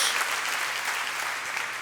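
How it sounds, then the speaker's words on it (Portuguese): A church congregation bursts into applause during a sermon, a dense wash of clapping from many hands that holds steady and close for the whole short stretch. "Dá uma salva de palmas."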